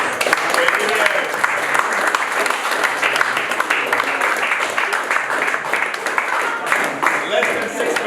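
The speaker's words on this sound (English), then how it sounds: "Let's give them all a warm round of applause." At an evening tech conference award session, an audience gives sustained, dense applause for presenters called back on stage, loud and continuous from start to end, with voices mixed into the clapping.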